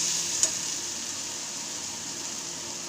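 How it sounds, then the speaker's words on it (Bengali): Spice masala frying in oil in a home kitchen pan while being stirred, a steady soft sizzle with a faint clink partway through, no talking. "মশলাটা কষিয়ে নিই দেখুন মশলা থেকে তেল ছেড়ে দিয়েছে"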